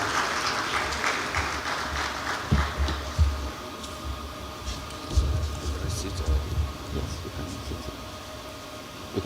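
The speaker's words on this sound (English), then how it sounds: "Let's keep clapping till he gets here" A conference audience at an agriculture summit in Africa applauds steadily while a moderator is awaited, a sustained wash of clapping with a few louder bursts throughout.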